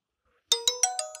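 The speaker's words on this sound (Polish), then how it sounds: "A powiadomienie jakieś, czekajcie, zobaczę." A phone notification plays a short chime of five quick, bright, descending tones after a half-second of silence, close and clear, with no talking.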